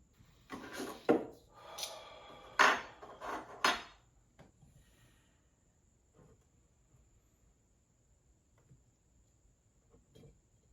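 A cork being worked out of a 1950s King's Ransom whisky bottle, bottled 1957-1960: a few close, squeaky rubbing and knocking bursts in the first four seconds, then faint scattered clicks in a quiet room with no talking.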